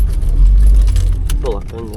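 An old Ford Mustang engine idles low and a bit rough at about 500 RPM, a steady close rumble with people talking over it.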